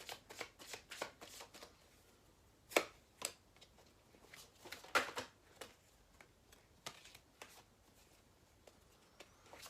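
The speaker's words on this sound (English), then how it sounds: "I'm just pulling some Chuck Spezzano love cards." Chuck Spezzano love cards being shuffled and pulled from the deck, a close, quiet run of crisp riffling flutters and snaps in irregular bursts, with no talking.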